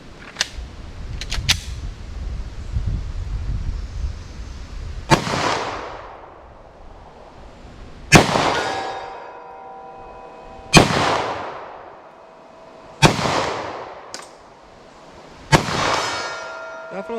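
Handgun shots fired at steel targets from 75 yards: a few sharp reports, each followed by a distant ringing ping of struck steel, spaced several seconds apart over an outdoor hush.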